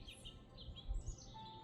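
Birds chirp and tweet faintly in the distance outdoors, a few short calls over a soft background hush.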